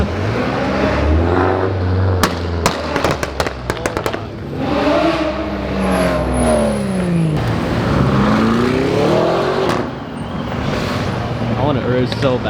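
A Nissan Nismo GTR rolls up at a busy car meet, engine revving and swelling through sweeping pitch changes amid sharp popping crackles, loud and close, with people talking throughout.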